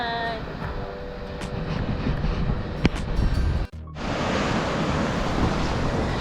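Strong ocean waves crash and roar at a beach resort in Tingloy, Batangas, a loud continuous surf wash with a brief drop in the middle before the roar resumes.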